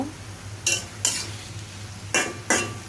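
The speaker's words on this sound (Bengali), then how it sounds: "তো এটাকে আমি ভালো মতো করে নেড়ে নিচ্ছি।" Jute leaves being stirred in a cooking pan, heard as a few separate bursts of scraping and rustling, with a faint steady hum underneath.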